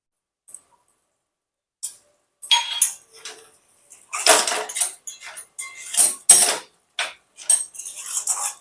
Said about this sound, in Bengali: এবার এটা আমি অন্য পাত্রে নামিয়ে নেব।